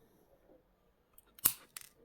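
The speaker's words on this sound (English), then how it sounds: "I'm going to cut it quite short" Wire being snipped short with cutters while shaping a beaded ring: two crisp, close metallic snips a moment apart, the first louder, in an otherwise quiet room.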